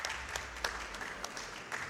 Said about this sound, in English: Clapping for almost falling down.